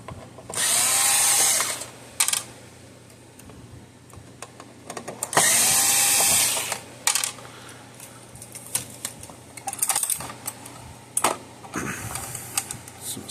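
A powered screwdriver backs screws out of a Cyclops Brute electric fence charger circuit board in two long whirring runs of a couple of seconds each, followed by short bursts and clicks, all close and alone.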